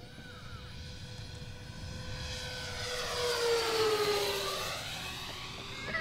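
An RC B-58 Hustler model jet passing at full throttle, a whining engine tone that swells and bends in pitch as it flies by, heard at moderate distance over wind noise.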